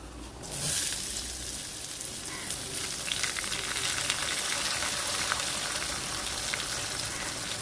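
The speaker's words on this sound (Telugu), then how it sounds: "కొంచెం కరివేపాకు అయితే వేస్తున్నాను. తర్వాత ఉల్లిపాయలు సన్నగా తరిగి పెట్టుకున్న ఉల్లిపాయలు వేస్తున్నాను." Curry leaves and finely chopped onions fry in hot oil for a Nellore-style dried fish curry, a steady close sizzle with a sharp burst as they hit the pan.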